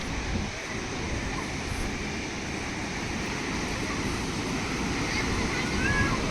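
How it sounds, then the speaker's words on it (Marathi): Steady broadband wash of sea waves rolling onto the white-sand Kunkeshwar beach, with rushing surf and light wind noise filling the scene continuously. "समोर येणाऱ्या समुद्राच्या लाटा, पांढऱ्या शुभ्र लाटा"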